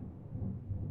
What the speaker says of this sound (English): Thunder snow is coming.